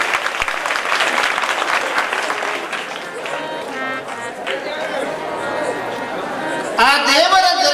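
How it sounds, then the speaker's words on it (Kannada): An audience claps at a religious discourse event at a math, steady dense applause filling most of the clip, then fading as a voice and other sounds come in near the end. "ಅವರಿಗೆ ಜೋರಾಗಿ ಚಪ್ಪಾಳೆ ತಟ್ಟೋದ್ರ ಮೂಲಕ"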